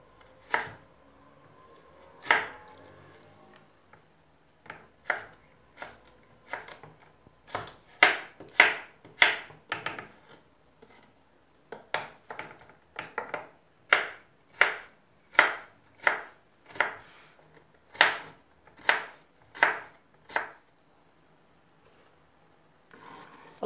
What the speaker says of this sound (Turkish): O yüzden elinizden geldiği kadar küçük doğrayın.